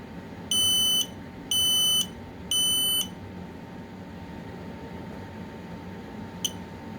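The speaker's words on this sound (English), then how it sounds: "This is a really interesting smoke alarm." Smoke alarm being tested indoors, three loud piercing beeps in an even rhythm followed by a single brief chirp, each one alone over a faint steady hum.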